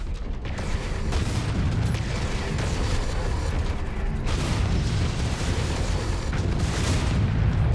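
A targeted mech exploding in MechWarrior 5, heard as a continuous heavy rumble of booms and blasts with deep low-end weight, sustained and loud throughout with no speech.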